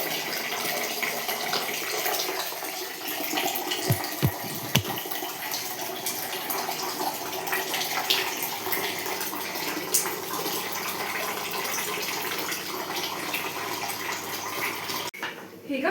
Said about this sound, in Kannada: ಮಿಕ್ಸಿ ಜಾರ್ನಲ್ಲೇ ನೀರು ಹಾಕ್ತಿದ್ದೀನಿ.